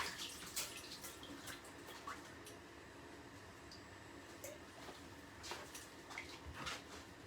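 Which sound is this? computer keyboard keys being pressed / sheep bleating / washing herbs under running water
washing herbs under running water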